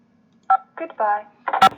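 A telephone keypad tone sounds as a key is pressed on a phone system's menu, a short clear beep near the middle of the clip, with a voice speaking around it in a quiet room.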